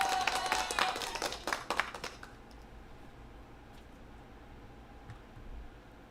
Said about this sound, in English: I give a hand clap one time for Holly Pinky